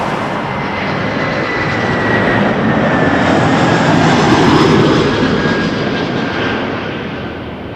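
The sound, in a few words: aircraft taking off at Toronto Pearson Airport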